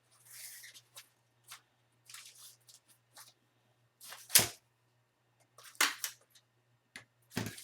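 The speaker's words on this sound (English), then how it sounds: "we're going to actually staple the heart sides down" A stapler fastens the sides of a handmade heart wreath, giving a series of sharp, close clicks and crunches in irregular bursts with quiet gaps between them.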